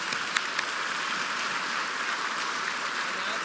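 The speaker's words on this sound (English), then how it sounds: "Let's give ourselves one more big round of applause for being generous." Audience applause at a charity brunch gathering, a steady, dense wash of clapping that holds evenly throughout, fairly close and filling the room, with no voices clearly standing out.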